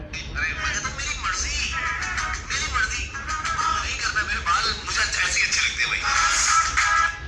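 FM radio broadcast playing through the speaker of an itel magic 3 phone, a continuous, fairly loud stream of music and voices with a thin, small-speaker tone.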